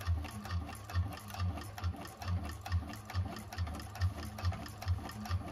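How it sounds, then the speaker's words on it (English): A 1341 cylinder arm sewing machine stitches down a seam allowance while making a bag, its steady rhythmic needle pulses running close and moderately loud without talk. "keep that on the seam allowance and sew down"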